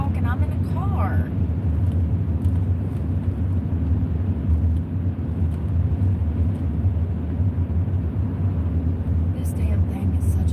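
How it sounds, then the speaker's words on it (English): Steady low engine and road rumble from inside a moving car, a constant close drone that runs throughout, with a voice speaking over it and faint higher chirps near the start. "No, I'm not walking. I'm in a car."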